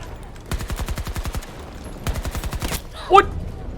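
Close automatic rifle fire from Battlefield 2042 rattles out in two rapid bursts, each about a second long, followed by a sharp electronic hit cue.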